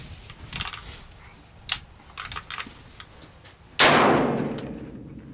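A Sig716 .308 rifle is fired with cheap 150-grain ammunition, giving one loud, sharp close shot with a long decaying ring, preceded by faint clicks and small metallic taps.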